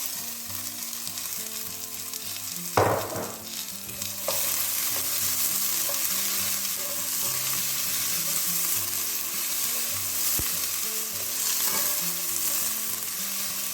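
Onions and frozen peas fry in a pan for Chinese chicken curry. A sudden burst of sizzle as the peas go in settles into a steady crackle with a few utensil knocks, under soft background music.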